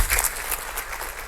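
A church congregation at a family celebration service applauds, a dense, loud burst of many hands clapping together, brief and sustained without speech.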